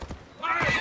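A short, fairly close horse whinny from Assassin's Creed Odyssey rises out of quiet and holds a wavering cry for under a second, with a faint hoof step just before it.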